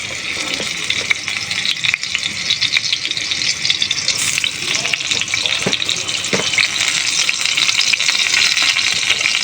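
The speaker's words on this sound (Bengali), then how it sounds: "তেল গরম হয়ে গেছে, বেগুনগুলো ছেড়ে দেবো এক এক করে।" Large eggplant pieces fry in hot oil in a saucepan, a busy close sizzle and crackle with occasional stirring clatter and a brief rattle, continuing steadily throughout.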